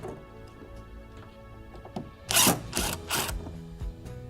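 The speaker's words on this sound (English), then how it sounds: "Our next step is to remove the electric box cover. by removing these two lower screws." A power driver backs two lower screws out of the electric box cover on a Coleman-Mach RV air conditioner. It gives three short, loud whirring bursts after a quieter stretch of faint mechanical ticking and handling.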